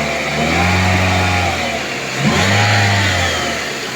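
A Toyota bB engine running smoothly after a misfire fault was fixed, revved twice, each rise and fall of pitch loud and close, then settling back toward idle.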